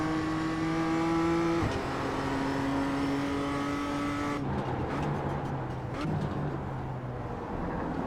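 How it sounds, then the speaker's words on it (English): Race cars rev at Okayama circuit, with engine tones climbing and shifting as they change gear. Their droning is steady and moderately loud, and voices talk faintly over it. "You can hear their revs."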